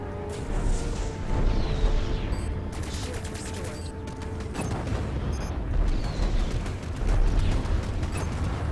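Rocket pods fire and burst in the space combat game Strike Suit Zero, a dense rolling barrage of explosions and rapid pops that stays loud and continuous throughout, with no voices.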